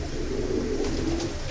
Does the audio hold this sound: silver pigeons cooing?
yes